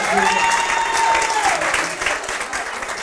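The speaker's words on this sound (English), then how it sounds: "give a round of applause for being brave" Audience applause and cheering on a trivia game show stage, a dense steady burst that thins slightly toward the end, with a voice talking and a brief tone near the start.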